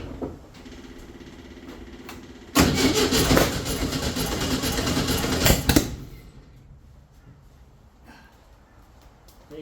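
Car engine cranking and catching after homemade throttle linkage work, a loud roar that lasts about three seconds before cutting out and leaving quieter background noise; no voices.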